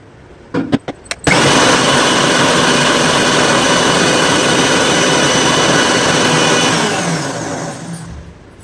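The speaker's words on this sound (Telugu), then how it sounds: "మిక్సీ పట్టుకుంటున్నా" Kitchen mixer grinder churning cream with ice cubes to make ghee, starting after a few sharp clicks and knocks into a loud, steady motor whine with grinding, then winding down near the end.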